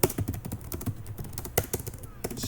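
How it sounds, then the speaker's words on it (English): Fast, irregular typing on a MacBook keyboard: a dense run of light clicks and taps, close and distinct, with brief pauses between bursts. "I'm typing very badly today"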